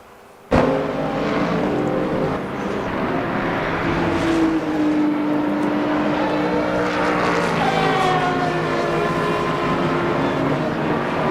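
Racing car engines in a sim-racing video game replay whine steadily at high revs, their pitch rising and falling as the cars pass, with no talking.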